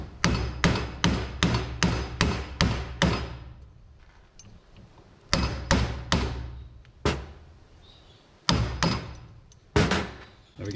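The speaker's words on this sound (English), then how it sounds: "you can use like a brass drift or something," Sharp metallic hammer blows drive an alternator rotor through with a brass drift during an alternator rebuild, coming in a fast series of about nine strikes, then two bursts of two or three more, each ringing briefly.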